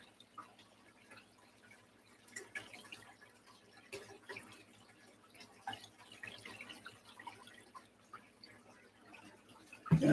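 Groundwater is poured into a container in uneven splashes and trickles, with intermittent gurgling bursts over about ten seconds, close by and moderately quiet, ending in a louder splash.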